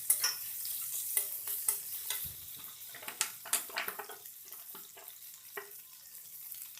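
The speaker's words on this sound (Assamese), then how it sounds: "আলুখিনি অলপ ৰঙচুৱা হোৱাকৈ এনেকৈ ভাজি লৈ ল'লোঁ" Potatoes and onions fry in a pan, crackling with irregular sizzling bursts and scraping stirs, close and fairly loud, with brief pauses between the louder pops and no talk.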